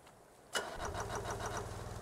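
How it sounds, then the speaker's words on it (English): A tank engine in the Stormworks video game cranks with a sudden loud catch, then settles into a steady, rhythmic mechanical chugging idle, with no talking. "then press the start engine key,"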